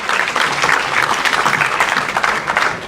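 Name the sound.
audience applause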